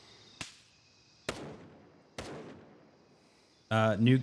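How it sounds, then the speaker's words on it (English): Several sharp gunshots in a PvP video game, three spaced single cracks with short decaying tails, followed by a brief burst of voice at the end. "I took a couple shots at him"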